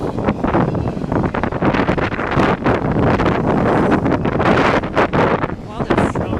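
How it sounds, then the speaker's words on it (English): Strong wind buffets the microphone near a passing Florida East Coast freight train trailer, loud and continuous, with a voice heard faintly through the roar. "this trailer's blowing in the wind"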